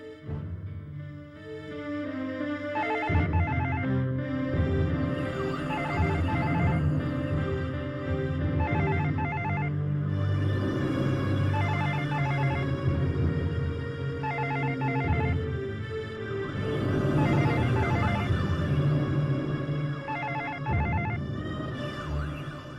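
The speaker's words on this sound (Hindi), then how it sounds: "अरे फोन की घंटी बज रही है, तुम उठा नहीं रही?" A telephone rings repeatedly in steady bursts over a dense musical background, continuing for a long stretch without anyone answering.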